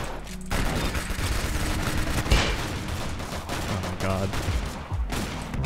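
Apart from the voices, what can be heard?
Spaz 12 shotgun automatic fire in Roblox Arsenal video game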